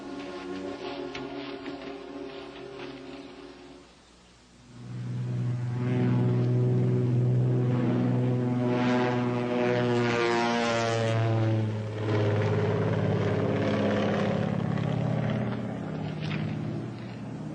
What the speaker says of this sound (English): Rod, take your plane and fly down to the border and check with the customs officials